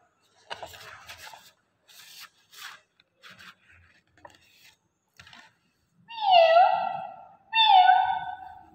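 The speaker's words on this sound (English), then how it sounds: "Who's this? Cat." A cat meows twice, clear and close, each call a drawn-out rising-then-falling cry, following a stretch of faint rustling and scraping.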